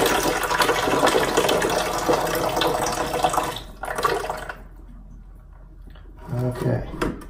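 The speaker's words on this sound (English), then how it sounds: "when I lift up on this fill valve to take it off, all the water is going to come out" Water rushes and gurgles out of a toilet tank as the fill valve is lifted off, a loud, close splashing that cuts off abruptly, followed by a few quieter drips and clunks.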